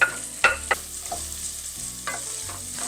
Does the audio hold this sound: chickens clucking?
no